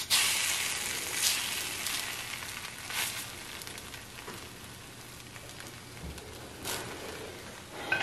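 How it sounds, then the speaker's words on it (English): Slices of French toast sizzle in a hot pan, a close, steady crackling hiss with scattered sharper pops and spits throughout, and no voices. "So just give them a few minutes on each side, cook until they are golden brown."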